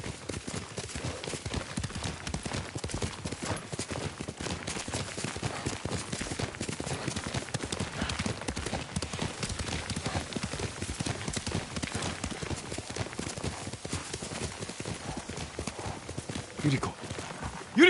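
Hooves of a horse in Ghost of Tsushima clip-clop in a fast, steady galloping rhythm throughout, loud and close, with no one speaking over them.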